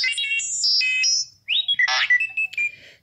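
A droid built with a Padawan 360 controller plays electronic sound effects: a run of stepped, warbling beeps followed by rapid chirps and whistles, close, clear and alone.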